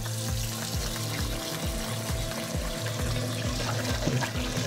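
Cold water runs from a kitchen tap into a sink while homemade butter is rinsed under it, a steady close splashing stream with irregular spatters and knocks of handling, and no one speaking.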